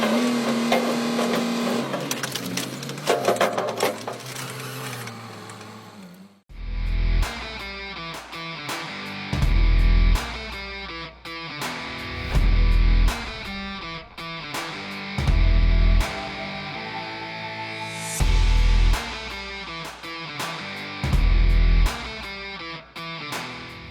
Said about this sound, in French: cette presse broie cette vieille voiture comme si c'était que du vulgaire papier